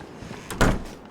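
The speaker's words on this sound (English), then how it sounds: "I run up the stairs and shut as many doors as I can" A wooden door shut inside a house in the survival video game DayZ, a single short thud with a brief creak before it, close and moderately loud.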